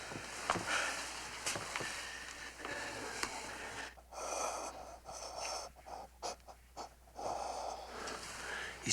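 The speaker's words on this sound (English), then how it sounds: "He's still breathing." A man breathes in laboured, wheezing gasps and snorts, ragged and uneven, close by in a quiet indoor space with faint shuffling around him.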